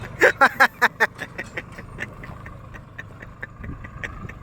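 Swaraj and Novo tractors, a Swaraj 855 and a Novo 755, are tested for gear speed. Loud rhythmic engine pulses come first, then settle into a steady, closer diesel drone with faint chatter.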